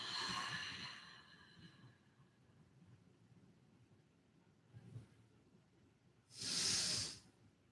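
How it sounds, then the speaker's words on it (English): Slow yoga exhales, a faint breathy hiss at the start, a quieter puff midway, then a louder, sustained airy exhale near the end, heard alone in a quiet room. "And exhale, nice and slow, all the way through"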